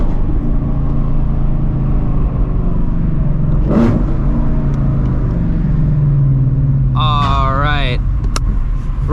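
A Shelby GT350R pulls away and drives along a road, its engine giving a steady, close low rumble that holds throughout, with a brief higher tonal sound near the end.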